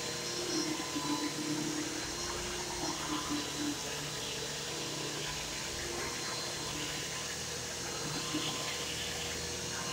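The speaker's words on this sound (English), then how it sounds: "That's one of my likes about this vacuum I like so much. It's actually quiet." A bagless Bissell or Dirt Devil vacuum cleaner hums steadily and fairly quietly indoors, a continuous even motor drone with a soft airy whoosh and no talking.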